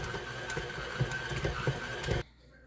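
A stand mixer with a dough hook kneads pizza dough, giving a steady mechanical whir with rhythmic thumps as the dough knocks around, close by, before the motor stops.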